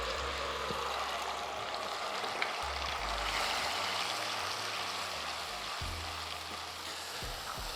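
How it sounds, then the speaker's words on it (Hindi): Onion, ginger and garlic paste sizzles steadily in a pan for Kashmiri rajma, a continuous hissing fry with occasional low knocks of a utensil, and no talking. "देखिए अब प्याज को भूनना है ताकि ये ब्राउन हो जाए"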